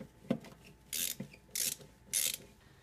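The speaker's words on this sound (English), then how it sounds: "Now this 10 millimeter bolt right here for the air hose, I'll undo that" A ratchet wrench loosening a 10 millimeter bolt on the air hose of a Toyota Sienna 3.5L V6, quiet clicks followed by three short bursts of ratcheting, close up with no talk.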